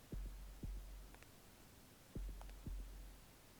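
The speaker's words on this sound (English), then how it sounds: "a heartbeat. That's what we're hearing in the background" Rhythmic heartbeat effect from the Arknights video game: paired low thumps repeat at a slow, even pace over a soft hiss and hum in the background.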